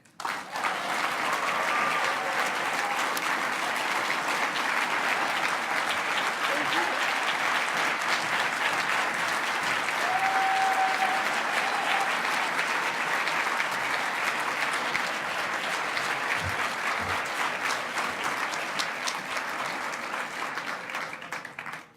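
Sustained audience applause follows a student organizer's speech at an education march, a dense, steady wash of many hands clapping that holds at even loudness for over twenty seconds, with faint crowd murmur mixed in.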